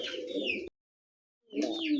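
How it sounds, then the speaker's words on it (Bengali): A white Danish pigeon coos close by in two throaty bursts separated by a brief silence, with no talking. "হোয়াইট ড্যানিশ কবুতর"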